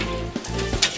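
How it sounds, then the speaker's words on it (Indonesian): Garlic crackers (kerupuk bawang) fry in hot oil over a low flame, a steady close sizzle with bursts of bubbling and crackling, no voices. "Kalau sudah dibentuk, tinggal digoreng deh."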